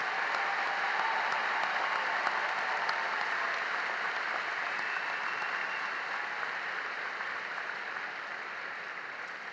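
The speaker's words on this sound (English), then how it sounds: "Now join me in giving the class of 2024 a congratulatory round of applause." A large commencement crowd gives the graduating class of 2024 a long round of applause, a broad, even wash of clapping that slowly fades, sounding somewhat distant and crowd-sized.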